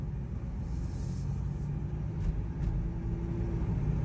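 Steady low rumble of a Buick Riviera, a flood-damaged car bought cheaply, out on its first drive, engine droning continuously from inside the car with a couple of brief bumps, fairly loud, no talking.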